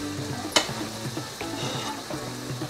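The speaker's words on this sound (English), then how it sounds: "you can see I'm just adding the broth" Seafood broth splashes into a hot paella pan, then a steady sizzling and bubbling continues beneath faint background music.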